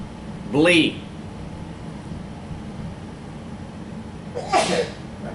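Two sharp sneezes, the first near the start and the second close to the end, separated by a stretch of quiet room hum.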